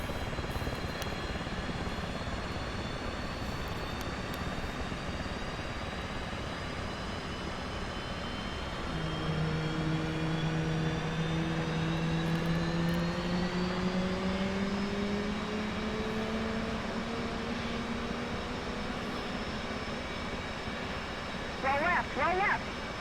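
An F/A-18C jet in the DCS World flight simulator keeps up a steady engine roar while a separate droning whine comes in midway, falls slowly in pitch as the throttle drops to idle, then fades out, followed by brief clicks.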